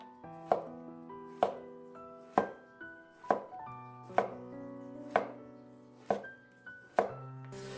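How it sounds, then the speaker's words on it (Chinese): A knife slices a king oyster mushroom on a cutting board in eight evenly spaced, crisp chops, close and clear, with a faint pitched ringing beneath, no voices. "先用刀给它切成片"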